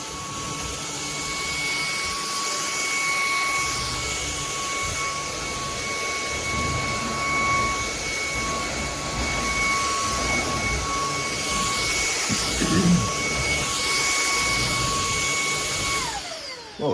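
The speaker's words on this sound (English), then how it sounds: "Let's put this vacuum on max and we'll see what it can do." A CAMIY cordless vacuum cleaner, rated 580W and 48KPA, runs on its max setting with a steady, loud whine and airflow roar that holds evenly throughout, with no talking.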